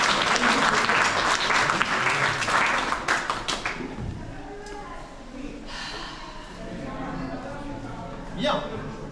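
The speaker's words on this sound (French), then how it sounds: "on vous applaudit très fort" Loud audience applause fills the first few seconds, then thins out into scattered claps and murmuring as a voice begins speaking.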